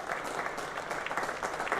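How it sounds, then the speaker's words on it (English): Football crowd at a Newport County versus Grimsby Town match applauding for a minute in memory of Captain Sir Tom Moore, a steady dense wash of distant clapping filling the stadium with no voices. "Minutes applause in memory of Captain Sir Tom Moore"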